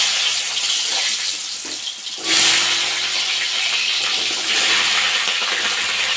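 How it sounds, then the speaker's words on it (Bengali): Potatoes drop into hot mustard oil in a wok and hiss loudly, with a burst of sizzle after about two seconds that settles into steady close frying with no talk. "গরম হয়ে গেছে, আমি আলুগুলো ভেজে নেব।"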